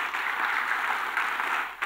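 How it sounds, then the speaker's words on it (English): An audience at a public university lecture applauds steadily, a dense, even wash of many hands clapping that continues throughout without pause. "let's give Dr. Yamson another big hand of applause"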